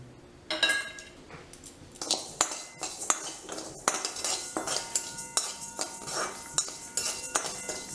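Raw rice dry-roasting in a pan for rice upma, stirred with a metal spoon that clinks and scrapes against the pan in quick, irregular strokes, close and without talk.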